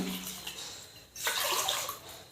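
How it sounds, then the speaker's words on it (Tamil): Water pours into a pressure cooker for bisi bele bath, a close splashing stream that dips briefly and then surges again louder. "இப்போ நம்ம தண்ணி வைக்கலாம்."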